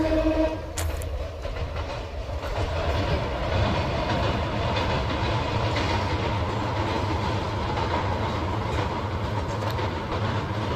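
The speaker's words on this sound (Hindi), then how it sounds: "ये जो रेलवे पुल है इसी नदी पर बना हुआ, और कटाव लगातार वार्ड नंबर 14 और 15 में जारी है, और ये ट्रेन अभी इससे गुजरी है" A train rolls across a railway bridge over the Gumti river, giving a continuous, fairly loud rumble with faint clickety-clack throughout and a brief higher tone near the start.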